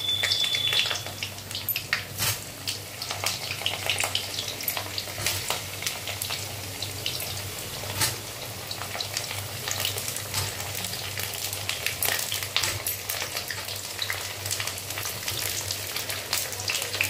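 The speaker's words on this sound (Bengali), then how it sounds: "আলুটা আমি লাল লাল করে ভেজে নেব।" Potatoes for a meat curry fry in hot mustard oil, a steady crackling sizzle with scattered pops and occasional stirring, close and unbroken.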